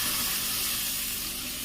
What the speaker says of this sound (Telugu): నేనైతే 1 గ్లాస్ వాటర్ వేసుకుంటున్నాను